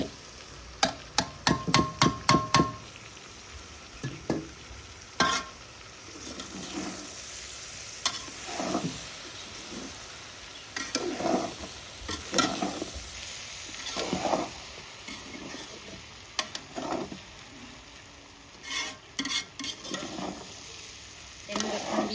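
Rice being stirred and fried in a pan for a village-style Chinese chawal dish, with a sharp run of metallic clinks at the start, then scraping strokes and intermittent bangs of the spoon over a steady sizzle.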